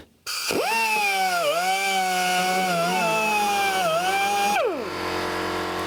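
A wire brush scrubs a completely oxidized, rusted cable, starting with a motor-like whine that rises quickly, holds a loud, wavering, steady pitch for several seconds, then winds down and fades.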